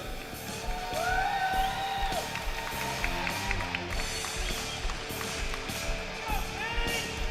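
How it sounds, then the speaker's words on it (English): Distant crowd clapping and whoops from spectators at a women's timbersports championship, a steady patter of applause with scattered cheers beneath an arena announcer's voice. "Big round of applause for Kate Page and Julie Miller."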